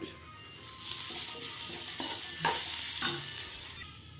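Crushed garlic paste sizzles in hot oil in a pan while a spoon stirs it, scraping clicks over a steady frying hiss, close up with no talking.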